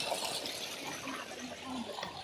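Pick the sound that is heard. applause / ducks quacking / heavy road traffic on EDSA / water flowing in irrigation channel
water flowing in irrigation channel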